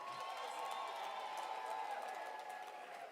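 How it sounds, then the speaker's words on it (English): A crowd at an outdoor South African freedom campaign event led by President Ramaphosa applauds and cheers in a faint, even wash of clapping that holds steady and heard from a distance. "Can we give them another round of applause?"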